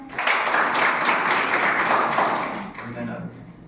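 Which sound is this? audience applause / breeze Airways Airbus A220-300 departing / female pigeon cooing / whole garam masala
audience applause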